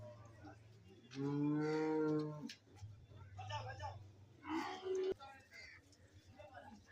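A loud, drawn-out moo from a nearby bull, followed by shorter bellows from other cattle amid general background murmur at a livestock market.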